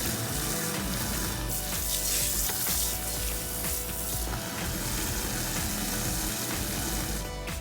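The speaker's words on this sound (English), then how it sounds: "Now, I turn my hot water to cold a little bit so that it's not too hot while I'm doing dishes." Kitchen tap water runs hard into a sink while dishes are being washed, a loud continuous hissing rush with faint clinks.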